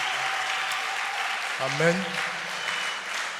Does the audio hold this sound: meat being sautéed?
no